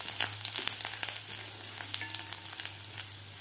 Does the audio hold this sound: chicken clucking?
no